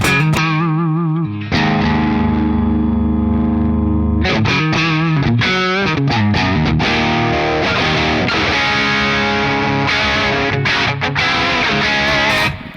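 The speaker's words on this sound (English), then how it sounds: "We've got a boost mode in here, so let's say I'm on a clean channel, I want to have some dirt on there." An electric guitar plays through a Bluguitar Amp1 Iridium amp, starting with a few clean notes, then the boost mode thickens the tone into a gritty, overdriven crunch with chords ringing out.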